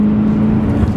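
A 2012 Chevrolet Camaro ZL1 drives along with a loud, steady engine drone and deep rumble heard from inside the car, with no talking.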